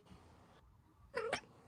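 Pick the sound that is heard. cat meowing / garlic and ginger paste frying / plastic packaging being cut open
cat meowing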